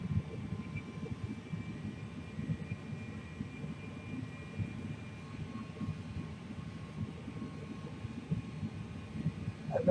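Delta airliner rolling for takeoff on the runway, a low steady engine rumble with a faint high whine, heard from inside the cabin at modest volume.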